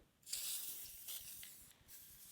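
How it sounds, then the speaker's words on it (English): Aerosol spray of Rust Patrol lubricant hisses onto a wrench in several close, steady bursts of about a second each, with short gaps between them. "So I'm going to spray it with Rust Patrol."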